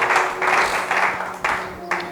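A church congregation applauding and acclaiming together, waves of clapping that swell and fade in short bursts, mixed with voices and a low sustained tone underneath.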